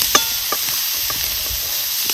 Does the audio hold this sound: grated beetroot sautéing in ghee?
yes